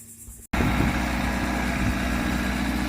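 A tractor engine runs steadily at a near, constant drone during high tunnel construction, starting after a brief cut with no talk.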